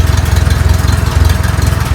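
A saw blade runs loud and close while cutting a walnut log, a steady droning engine hum with a fast pulsing vibration throughout.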